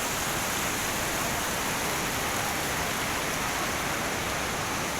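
Floodwater rushes over a village bridge in heavy rain: a constant, dense roar of rushing water fills the whole stretch, steady and unbroken, with a hiss like heavy rain mixed in and no voices.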